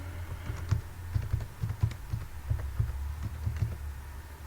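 Soft, irregular key taps from a computer keyboard over a low hum, fairly quiet and close, with no talking.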